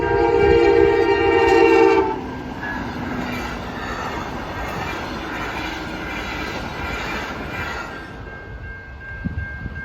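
A train blasts its horn while passing the M52 road crossing in Chelsea, Michigan; the loud horn chord cuts off after two seconds, leaving the continuous rumble and clatter of rail cars rolling past nearby.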